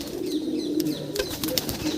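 Pigeons kept in a collection setup, with a low steady cooing murmur and brief rustles and wing flutters close by, with no talking.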